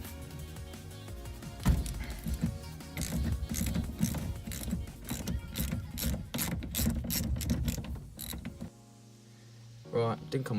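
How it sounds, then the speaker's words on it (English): Ratchet wrench fitted with a 22mm socket clicks rapidly and steadily as it loosens the steering wheel nut on a Mk2 Ford Fiesta, close and loud, with a few knocks before it stops. "now the cap's off, just a case of getting the 22mm socket"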